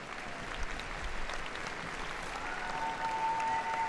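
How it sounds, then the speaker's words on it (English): Audience applause fills a competition arena at Crufts 2013 as a handler and her dog enter for an international heelwork-to-music freestyle event, a steady, dense clapping that holds evenly throughout with a thin whistle-like tone near the end. "Give her a round of applause, she enters the arena."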